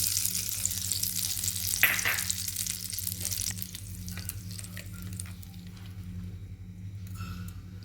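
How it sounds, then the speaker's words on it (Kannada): Tempering for chutney sizzles and crackles in hot oil close up, loudest at the start with a sharp burst, then fading to a quieter fry under a low steady hum. "ಈಗ ಒಗ್ಗರಣೆ ಮಾಡ್ಕೊಂಬಿಡೋಣ್ರಿ"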